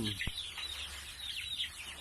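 Month-old Thai native chickens in a nursery coop at a village farm, chirping and clucking continuously nearby while someone talks over them.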